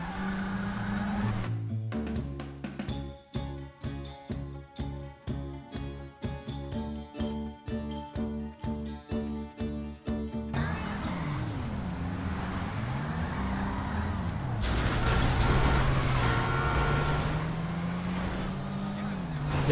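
Electric car driven in GTA V: a rhythmic pulsing jingle-like tone for several seconds, then a smooth rising and falling electric motor whine with tyre and road noise, with voices talking over it.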